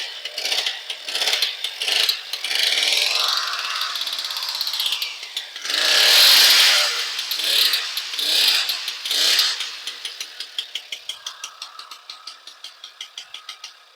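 A Puch SRA 150 motorcycle engine is started with the push button, churning in rapid, rattling mechanical pulses that run steadily up close before slowing into evenly spaced, fading beats.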